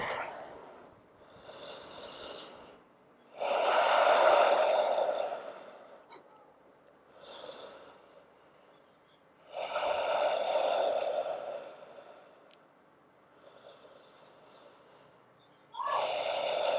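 Slow, deep breathing during a home yoga flow, long audible breaths repeating in a steady cycle roughly every six seconds, close and alone with quiet pauses between.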